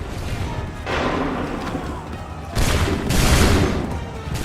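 Musket volleys in Assassin's Creed III crack out as dense, overlapping bursts of gunfire, one rolling volley followed by a louder, heavier second round echoing across a battlefield.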